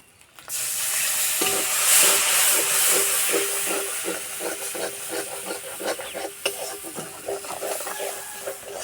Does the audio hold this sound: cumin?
yes